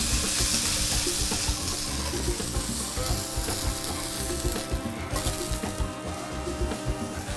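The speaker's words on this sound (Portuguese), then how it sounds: "Barulhinho da frigideira já instalando." A cauliflower steak sizzles loudly in a frying pan, a dense, continuous crackle that stays strong and close throughout, with a few faint clinks underneath.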